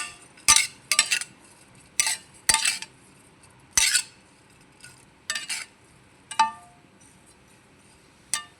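Sugar stirred into carrot halwa in a metal pan, with a dozen or so sharp clinks and scrapes of a spoon against the pan in irregular bursts, separated by near silence, close and clear, no talking.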